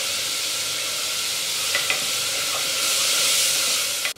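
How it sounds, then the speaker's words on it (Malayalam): Chopped onions with salt sautéing in a pan, a loud continuous sizzle and hiss with a few light stirring scrapes, with no talk. "സവാളയിലേക്ക് 1 ടീസ്പൂൺ ഉപ്പ് പൊടിയും കൂടി ചേർത്ത് നന്നായിട്ട് വഴറ്റി കൊടുക്കാം"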